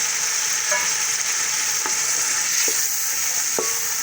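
Frozen cooked chickpeas sizzle in a hot pan of tempered spicy rice, a steady loud frying hiss broken by a few soft scrapes and stirs, with no voices.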